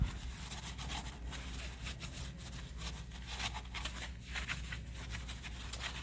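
A green scrub pad rubs over a filthy aluminum wheel, a steady, quiet, continuous scraping with a gritty back-and-forth texture and no clear pauses.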